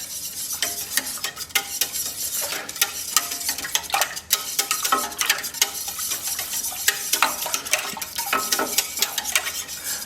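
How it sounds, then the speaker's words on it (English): A spoon stirs taco sauce made with vinegar and brown sugar in a pot, with repeated close scraping and clinking strokes over a soft, low simmer. "Give this a bit of a stir."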